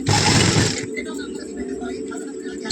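An electric sewing machine runs in a fast, continuous whir while stitching a blouse, loud at the start, then easing to a steadier hum with a faint voice underneath.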